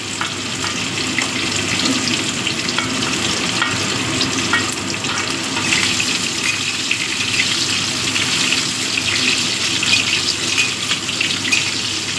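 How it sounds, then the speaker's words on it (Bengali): Lightly steamed cauliflower pieces fry in hot oil with a steady, close, loud sizzle that holds evenly throughout, with no voices. "এবার আমি প্রথমে ফুলকপিগুলো ভেজে নেব অল্প করে ভেজে নেব"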